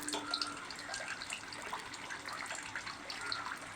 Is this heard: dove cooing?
no